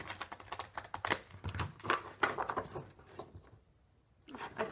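Tarot cards shuffled by hand in a rapid run of soft riffling clicks and flutters, close by, settling into a brief quiet pause before a last faint rustle.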